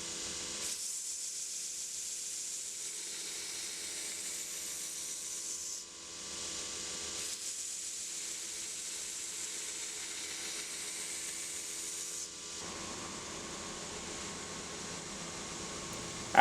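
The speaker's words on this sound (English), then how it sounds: "I'll start my grinds with an aggressive angle, bringing the bevel up to the marked out apex line, and then I will start bringing it towards the spine" A belt grinder working knife bevels into an old steel file, a continuous hissing abrasive rush that drops briefly twice as the blade lifts off, steady and close with no voices.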